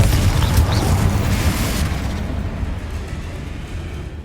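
Confringo spell explosion in the video game Hogwarts Legacy, a loud deep boom with a rumbling blast that rolls on and slowly fades over a few seconds.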